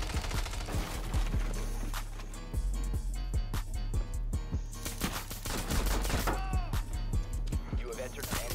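Gunfire in Rainbow Six Siege, sharp rapid shots in bursts and scattered single cracks close by, mixed with game effects, while players talk over the action.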